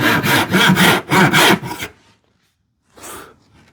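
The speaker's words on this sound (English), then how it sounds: "I can feel it when I'm sawing because I don't get as much resistance usually when I'm sawing plywood." A hand saw cuts plywood in a quick run of about five rasping strokes close up, then a pause, then one more stroke.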